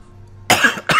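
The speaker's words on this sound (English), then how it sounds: "Sorry for my coughing, by the way." Two sharp, close coughs from a person recovering from illness, the first longer and harsher, the second quickly following after a brief pause.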